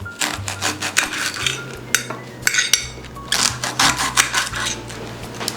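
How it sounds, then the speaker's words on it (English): A knife trimming the tips off Brussels sprouts in a kitchen: a run of sharp, irregular clicks and taps against a board and dish, close and fairly loud, with brief pauses between clusters of cuts. "Cut those tips off."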